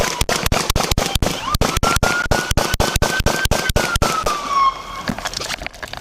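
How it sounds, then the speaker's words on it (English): Rapid, regular gunshots ring out during a police confrontation with a man holding an AR-15 rifle in Huber Heights, Ohio: roughly twenty sharp, loud cracks in a steady burst over about four seconds, then a pause. "shots fired!"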